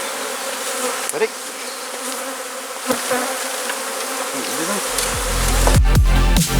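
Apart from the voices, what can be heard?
bees being shaken into a hive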